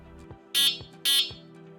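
Two short electronic beeps from an e-bike horn, sharp and tonal, sounding close over a faint repeating electronic ticking from the blinkers.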